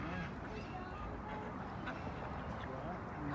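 Ducks quack at a pond during feeding on a hot day, their calls faint and scattered under a steady wash of outdoor noise.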